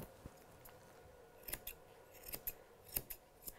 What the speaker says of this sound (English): I've angled my scissors